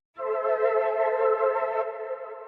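A single dark, sustained synth pad from the Mellotron 5 instrument in FL Studio holds one steady chord for about two seconds, smooth and close, then thins slightly as it fades.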